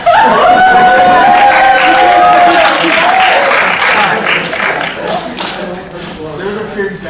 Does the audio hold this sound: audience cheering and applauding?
yes